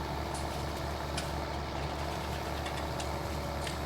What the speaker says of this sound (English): He put in a manual gearbox in it, so you can like hear the tractor change gear and stuff.